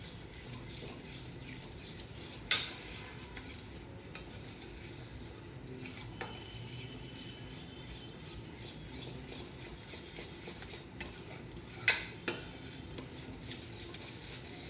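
Dhokli batter being stirred in a pan for a spicy Gujarati dhokli curry: a quiet, steady scraping and swirling with two sharp utensil clinks against the pan, no voices.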